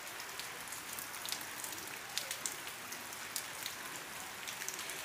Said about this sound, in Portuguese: Tá chovendo bastante.